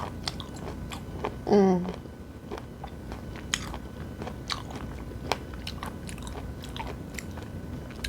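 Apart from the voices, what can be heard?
chewing raw abalone sashimi, crunchy bite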